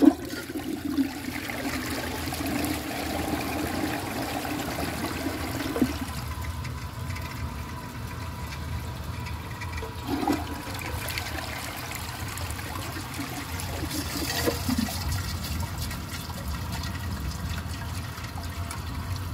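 A 1992 Eljer Preserver toilet flushes with a washcloth and grocery bag in the bowl, giving a long, steady rush and trickle of water at close range.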